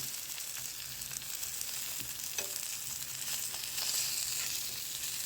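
Fish frying lightly in a pan, giving a soft, steady crackling sizzle with occasional stirring scrapes, quiet and close.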